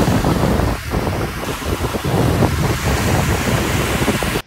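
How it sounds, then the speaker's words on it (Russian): Sea waves breaking and wind buffeting the microphone on a seashore, a steady loud wash of surf and gusts filling the whole stretch without pause. "мы на море"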